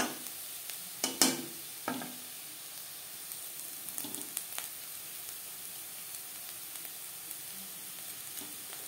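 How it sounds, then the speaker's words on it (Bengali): Potatoes crisp in a shallow layer of oil over a gas flame, a soft continuous sizzle and hiss with a few sharp stirring scrapes near the start, then quieter occasional clicks, close by. "আমি একটু ক্রিস্পি করে ভেজে নেব"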